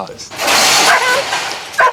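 A farm dog, upset at being shut in, barks and whines in short bursts close by, with people talking over it.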